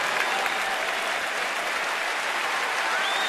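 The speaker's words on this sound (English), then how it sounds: "the fans are applauding a good at-bat by Jason Worth" Baseball fans applaud a good at-bat in a Washington stadium during a Cubs game, a loud, continuous roar of clapping from a large crowd spread across the stands.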